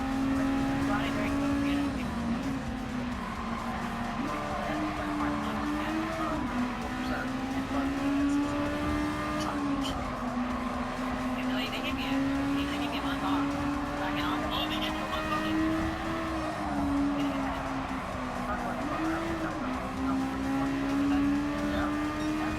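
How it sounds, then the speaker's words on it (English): Honda Civic VTEC race cars in Gran Turismo 7, engines held at high revs in a steady droning whine that rises and dips with gear changes throughout, with a voice talking over it. "We gotta keep revs high. These are Honda Civics with VTEC."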